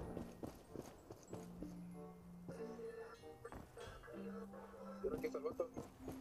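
A horse's hooves clip-clop in the survival game Project Evo, a quiet irregular series of hoof strikes under game music and conversation.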